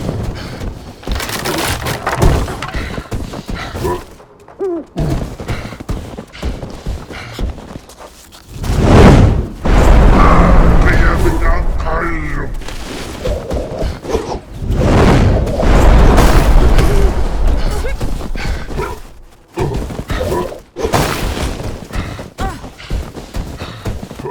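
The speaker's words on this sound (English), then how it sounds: "Now he's using grenades." Grenade explosions in the video game Never Alone, with several heavy booming blasts and crunching debris amid rushing wind and game sounds, loud and close, with intermittent effects between them.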